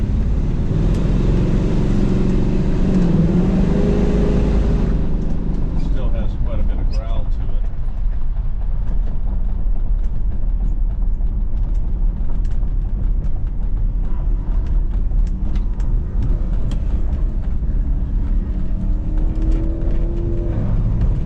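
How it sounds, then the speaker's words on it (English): A 1970 Oldsmobile Cutlass 442 drives on the highway, its engine droning steadily with an automatic transmission shifting roughly, the tone dropping after about five seconds, heard from inside the car under continuous talking. "the transmission in this, I'm noticing, is shifting a little funny"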